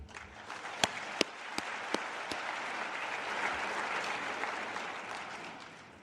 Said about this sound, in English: I'd like to give a big round of applause to ESPN